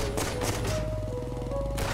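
Rapid gunfire bursts out during a fight with an enemy in the video game Laika, a loud quick volley of shots with a ringing tone beneath.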